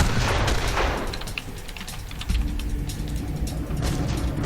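Federal snipers fire on a yard in a Mafia game, producing sharp, scattered cracks of gunfire amid mechanical clatter and ambient noise, no voices present.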